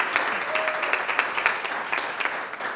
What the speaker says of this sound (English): I hope you all will join me in one more round of applause to recognize this wonderful day.